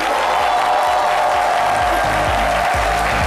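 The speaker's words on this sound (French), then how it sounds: "je vais vous demander d'accueillir avec des applaudissements, mais de vibrants applaudissements" Applause from a TV studio audience greeting a guest on a live midday talk show in Côte d'Ivoire, a steady loud wash of clapping and crowd noise lasting a few seconds.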